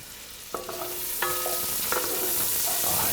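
Onion and garlic fry in a pan for a Tuscan sausage soup, giving a steady close sizzle with a few clinks and scrapes as the pan is stirred.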